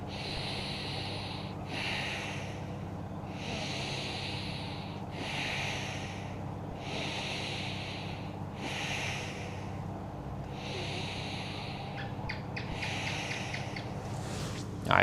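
Deep, rhythmic breathing paced through a fascia stretching exercise for ankylosing spondylitis, with about six slow, airy inhale-exhale cycles heard up close, each breath a soft whooshing pulse over a steady low background hum.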